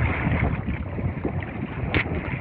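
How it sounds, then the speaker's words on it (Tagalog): Strong wind roars across a small fishing boat at sea, buffeting the microphone in a steady, loud, broadband rush with brief gusts and no voices. "Grabe hangin to."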